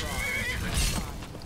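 A horse in the video game Skyrim whinnies once in a short, loud burst, mixed in with game noise and a voice.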